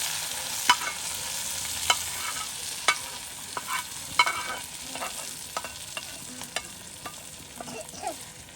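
Khichuri being stirred in a pot, a spoon scraping and clinking against the metal in a steady rhythm of sharp taps over a soft, constant sizzle, close and fairly quiet.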